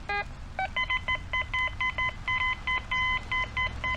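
Quest X5 metal detector beeping over a dime, a string of short, bright repeated tones in quick pulses, close and clear with no voices.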